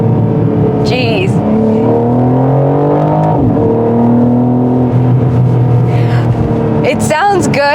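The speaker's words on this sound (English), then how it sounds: "we can really hear the exhaust come to life" BMW M4 exhaust on an open road, a strong engine drone that rises and falls through revs, with brief crackles near the start and end, recorded close from inside the car.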